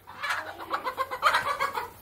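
A farm hen clucks in a steady series of short, close bursts, fairly loud and clear, with no one talking.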